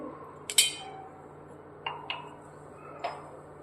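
Ice cubes clink into a vessel of freshly pressed sweet grape juice: one sharp clatter followed by three lighter knocks, close and clear over a quiet kitchen hum.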